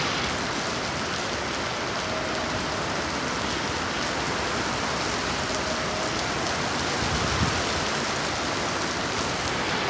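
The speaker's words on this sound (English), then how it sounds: "Last few times it's raining, but it's not too heavy, just small little." Light rain falling steadily outdoors, a dense, even patter of small drops on surfaces that continues unbroken for the whole stretch at moderate level, with no voices.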